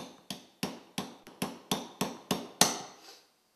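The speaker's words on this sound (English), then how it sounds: "We'll go ahead and use a little hammer to tap it pretty close" Small hammer tapping a pin into a CZ 75 pistol mag brake, about nine sharp metallic taps in a steady rhythm, close and crisp, the final strike slightly harder and ringing briefly.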